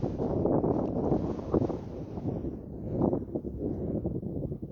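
Strong wind roars and buffets against the microphone in a steady, dense rush that swells and eases slightly, with no voices.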